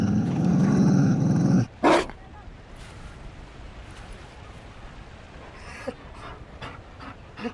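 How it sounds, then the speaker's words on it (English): A Mabari war dog in a video game pants heavily and close up, then the breathing drops away to faint, low background sounds with a few soft noises. "You found a dog?"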